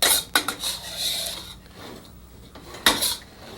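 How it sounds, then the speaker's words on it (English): A metal utensil scrapes bean sprout filling out of a wok, giving brief clattering scrapes and knocks of metal against metal, with two sharper hits near the start and end and quieter rubbing in between. "Let's scrape every last bean shoot out of our wok here."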